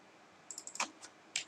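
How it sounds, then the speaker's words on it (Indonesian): A computer keyboard gives a short, quiet burst of typing, with several light, quick keystrokes in two small clusters and no talk. "Artinya di sini teman-teman harus ketik manual ya."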